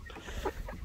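Twelve-week-old Easter Egger hens give a short, soft cluck close by, a single brief call over a quiet yard background.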